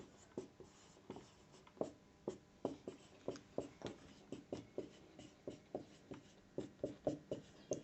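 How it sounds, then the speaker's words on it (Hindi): A pen writing on paper during a geometry lesson on a triangle's incentre, quick rhythmic strokes in short bursts, close and fairly quiet, with no speech over them. "तो यहां पे लिखेंगे"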